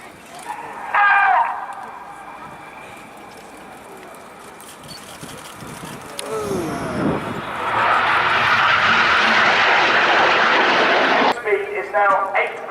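Red Arrows jets performing the Jippo break at an air display roar past, rising from a distant rumble into a loud, sustained jet blast that cuts off abruptly, while a commentator talks over the early part.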